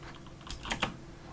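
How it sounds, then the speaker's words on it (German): A few quick, quiet clicks of a computer keyboard being typed on, three or four distinct key presses close by against a soft background hum. "Hört ihr das? Das sind geheimnisvolle Tastaturbefehle."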